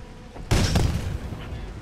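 A single loud explosion in the video game Titanfall 2, a sudden close boom that rumbles and fades over about a second.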